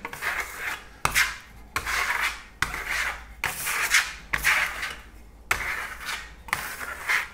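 A steel trowel spreads matte pearlescent decorative paint across a wall in steady scraping strokes. Each sweep lasts about a second, followed by a brief pause, and the close rasping repeats about eight times.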